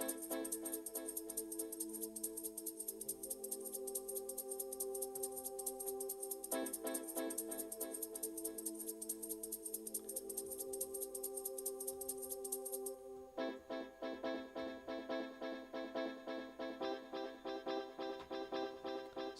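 A repeating reggae chord, treated with an effect set to half dry and half wet, stabs on the offbeat in a jungle track while a tightly looped beat runs underneath. The tone shifts partway through, with no talking.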